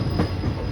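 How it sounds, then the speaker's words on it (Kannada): Diesel-hauled train gathering speed on the main line, a dense loud rumble of wheels and carriage noise from on board, brief and continuous. "ಮೇನ್ ಲೈನಿಗೆ ಟ್ರೈನ್ ಬಂತು, ಇಲ್ಲಿಂದ ಸ್ಪೀಡ್ ತಗೊಳುತ್ತೆ"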